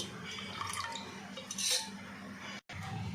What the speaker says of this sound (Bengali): আমি দুধটাও নাড়বো আর এটাও একটু একটু করে দিতে থাকবো